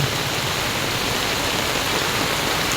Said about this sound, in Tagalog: ramdam lang dito yung yung bagin ng uwan sa tindi ng ulan